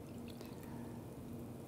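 Water is poured into a beaker sitting on a soil slope, a soft, steady trickling pour heard close and alone.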